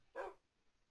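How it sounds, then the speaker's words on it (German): A Minecraft dog lets out one short, faint bark, alone against near silence. "Macht mir ein neues Hundebaby."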